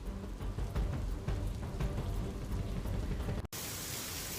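Heavy rain driven by strong wind in Mahuva, Bhavnagar, Gujarat during the monsoon, a dense continuous hiss of downpour with gusty rumble, steady and fairly close, cutting briefly before resuming.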